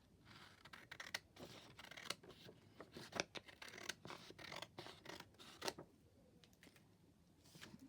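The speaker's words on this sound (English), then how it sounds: "I'm going to trim my little border off." Scissors trim the border off a paper postcard printable in a quiet room, a series of soft, close snips and light paper rustles spread over several seconds.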